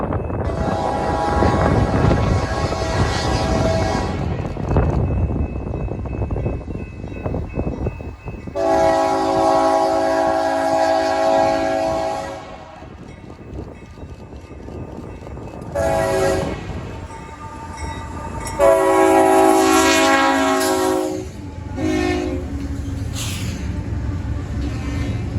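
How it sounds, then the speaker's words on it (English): A freight train led by a rebuilt AC4400 locomotive rolls past in Houston, its horn sounding in several loud, sustained blasts over the continuous rumble and clatter of the cars. "And this train is the MEW MX once again, with a K3HL"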